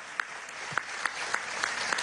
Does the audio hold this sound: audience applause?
yes